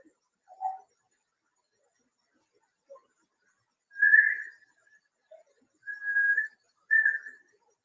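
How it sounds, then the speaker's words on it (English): Several short melodic whistles, faint and distant, separated by silence, with a couple of tiny distant sounds between them. "you can hear a whistle and some voices in the distance here"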